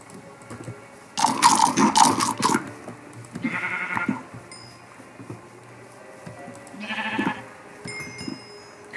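Sheep bleating in a Minecraft-style factions server game, several loud bleats in a burst near the start, then softer bleats around the middle and again near the end.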